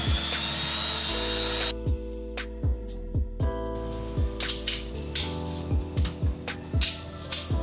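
An electric hand mixer whips batter containing cornstarch, its motor buzzing loudly and steadily while the beaters knock against the bowl in repeated thuds, with the pitch shifting as the mixer moves through the mixture.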